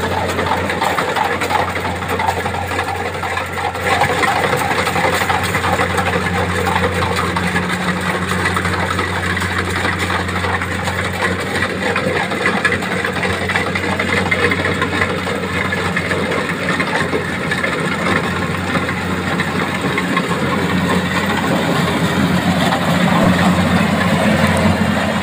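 A Kubota rice harvester's engine runs steadily in a rice field, a loud continuous mechanical drone with rattling from the machinery and no break in the sound.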